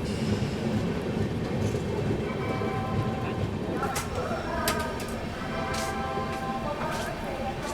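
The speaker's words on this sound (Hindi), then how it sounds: "ट्रेन निकल चुकी है।" The Punjab Mail pulls out of Mathura Junction as a steady, loud rumble of rolling railway carriages, with faint squeals and clanks rising over the continuous noise throughout.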